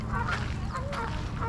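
Honking, goose-like calls of ducks at a lake where people are fishing, a busy overlapping chorus of several birds calling repeatedly and fairly close over steady low background rumble.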